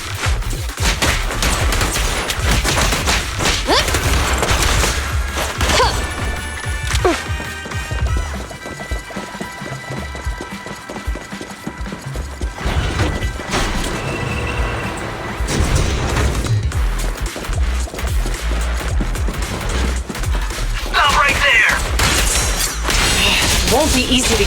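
Sustained gunfire in the Zenless Zone Zero video game: dense, loud bursts of rapid shots and impacts with booms and clattering mechanisms, continuing through the whole stretch, with a short lull midway and voices speaking over the battle.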